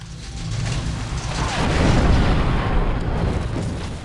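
Rocket launcher explosions in the video game Red Faction 2, a heavy, continuous rumbling roar of blasts and debris, loud and close, swelling in the middle with no speech over it.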